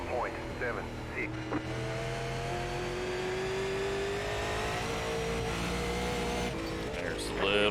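A Super Late Model race car howls at full throttle around Five Flags Speedway in iRacing, a steady, rising engine drone with a brief lift near the start and a tyre scrub at the end, under a low voice.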